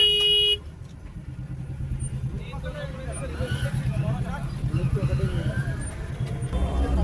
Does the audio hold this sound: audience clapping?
no